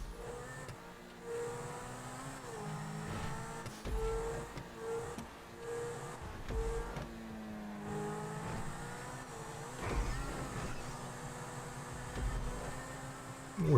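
Pegassi Zentorno supercar engine droning and shifting pitch on a test track in GTA, a steady mid-level hum with gear changes and rising revs throughout, no talk.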